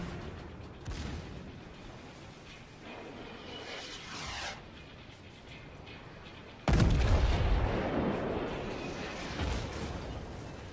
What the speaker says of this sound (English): So these two ships now continuing to exchange secondaries fire, the New Mex and the Fuso nose and tail in a straight line chase